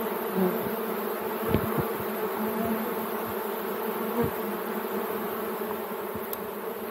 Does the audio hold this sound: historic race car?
no